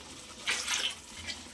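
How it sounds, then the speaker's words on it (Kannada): Water poured from a medium-sized glass into a cooking pot of bubbling spiced masala for a fish curry, a brief soft splash and trickle at moderate distance with no talking. "ಮೀಡಿಯಮ್ ಸೈಜ್ ಗ್ಲಾಸಿಂದ 2 ಗ್ಲಾಸ್ ನೀರು"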